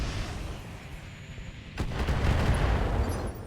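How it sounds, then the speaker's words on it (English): Missile launcher salvo fired from a mech in the RogueTech BattleTech game: a sustained rumbling roar of launches and impacts, loud and continuous, swelling sharply partway through and holding as a dense barrage. "We're just going to move up here and fire the MML at the Scorpion."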